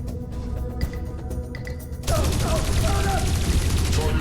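Gunfire in the video game Dreamfall Chapters, arriving as a sudden loud burst of dense, continuous shooting that takes over after a quieter stretch of ambient game sound.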